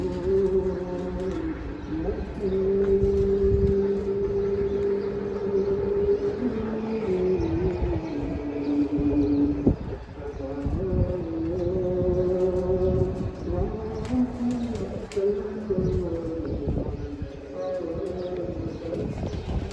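Pigeons coo repeatedly in low, throaty warbles under a steady background hum, with occasional soft knocks and rustling nearby, as a pigeon settles onto its perch at night.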